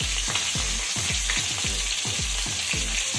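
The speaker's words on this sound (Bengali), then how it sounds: "আমি 3টে করে ভেজে নেব" Pieces of aar fish frying in hot oil, a constant bright sizzle with a rhythmic series of low thumps and scrapes from a pan or utensil repeating about twice a second, close and loud.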